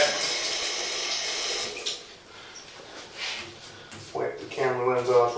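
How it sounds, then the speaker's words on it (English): A bathroom sink tap runs a small stream of water, a close hissing flow for the first couple of seconds that then cuts off, followed by quieter handling sounds and a voice near the end. "We're going to run just a tiny bit of water in the sink just to get the cloth wet."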